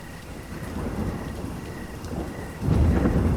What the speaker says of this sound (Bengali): বৃষ্টি তখনও পড়ছে